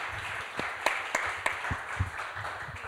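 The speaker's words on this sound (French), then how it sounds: "On peut l'applaudir bien fort." Light applause from a conference audience for a speaker, scattered individual claps at moderate distance, fairly quiet and thin.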